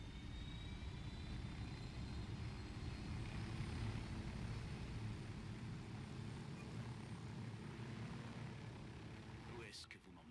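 A helicopter in the video game Ghost Recon Wildlands gives a steady, loud, low rotor rumble that continues almost unchanged and drops away abruptly at the very end.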